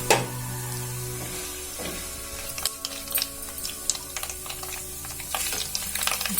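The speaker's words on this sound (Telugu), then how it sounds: "ఇప్పుడు పోపు గింజలు వేసుకుంటున్నాను" Mustard seeds, cumin and chana dal spluttering in hot oil for a mango chutney tempering give scattered crackles and pops over a soft steady sizzle, close and moderately quiet, with no talking.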